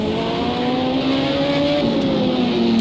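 LMP2 prototype race cars racing on the Daytona road course in Project CARS 2, a loud sustained engine drone with a shifting pitch as cars accelerate and pass, dense and continuous.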